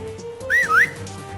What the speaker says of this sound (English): A whistle item to lure your enemies